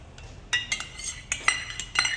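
A metal spoon stirs a tempering into curd rice in a dish, giving sharp, irregular clinks and scrapes against the vessel, close and clear with no talk.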